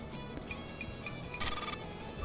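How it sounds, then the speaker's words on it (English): A ringing phone call tone in the video game Figure Fantasy, a repeating electronic ring pattern with a brighter burst in the middle, moderately loud over faint game background. "Another phone call."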